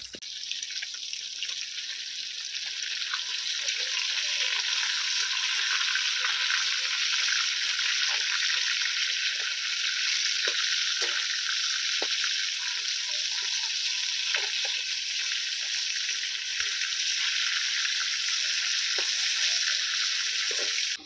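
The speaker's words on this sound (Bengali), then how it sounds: "মাছগুলো এবারে আমি এক পিট ভাজা হয়ে যাক তারপরে উল্টি পাল্টি ভালো করে লাল লাল করে ভেজে নেবো" Rohu fish pieces fry in hot oil, a loud, continuous, even sizzle lasting throughout with small crackles and pops scattered through it and no voices.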